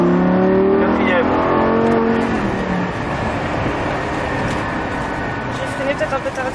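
A Lamborghini Gallardo LP-560 accelerates at full throttle, its engine rising in pitch through a gear before settling into a loud sustained roar heard from inside the car, with people talking over it.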